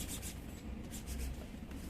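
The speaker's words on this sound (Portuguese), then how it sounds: "passa aí o cabo da tesoura. Deixa ela bem chapadinha" The handle of a pair of scissors is rubbed back and forth over a fabric strap to press it flat, making a steady, close, scratchy rubbing sound with no talk.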